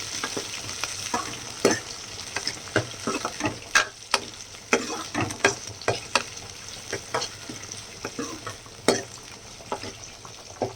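Small shallots sizzle steadily in a hot pan while a utensil stirs and scrapes in irregular clicks and knocks.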